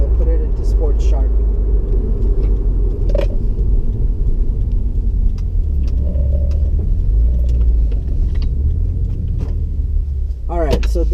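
A 2015-2017 Subaru WRX with a CVT drives in sport sharp mode, giving a loud, constant low rumble of engine and road noise from inside the cabin, with a brief voice near the end.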